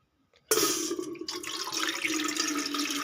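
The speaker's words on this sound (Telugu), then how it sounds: "one and half glass water పోస్తున్నాను నేనైతే ఈ గ్లాస్తో" Water gushes steadily from a glass into an idli cooker pot in a home kitchen, starting abruptly after a brief silence and continuing as a loud splashing pour.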